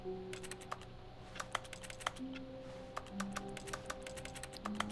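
A voice mimics rapid computer keyboard typing: a steady run of sharp, dry clicks, close and fairly loud, over a low sustained musical hum.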